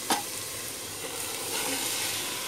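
Raw chicken dropped into a hot pan for white chicken akni pulao sets off a loud, steady sizzle and frying hiss, with a brief clatter at the start and no voices.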